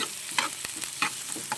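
Garlic and onion sauté in a pan, loud close sizzling with repeated rhythmic stirring scrapes of a spatula every fraction of a second.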